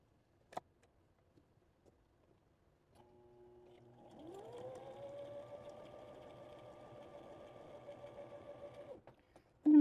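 A few soft clicks come first, then a sewing machine stitching quilt pieces spins up into a faint, steady motor whir that runs for several seconds before stopping.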